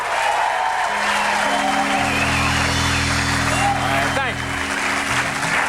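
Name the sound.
studio audience applause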